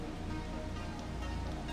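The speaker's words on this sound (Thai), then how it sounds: "นี่มันลำธารน้ำปะเนี่ย" Flowing stream water from the video game Far Cry 3 Blood Dragon, a steady broadband wash that stays even and continuous at a moderate level throughout, with no voices over it.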